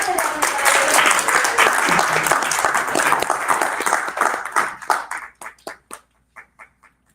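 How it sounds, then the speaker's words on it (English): A live audience at a talk event gives loud, dense applause and cheering that thins into a few scattered claps and then stops. "please put your hands together, up in the air, clap, clap, clap, make some noise for Julie Garbutt, everybody."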